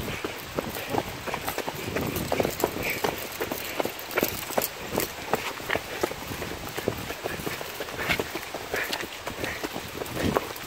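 Quick, uneven footsteps run through mud on a rainy forest trail, with irregular squelching thuds and slaps close by, steady wind or rain hiss underneath, no talking.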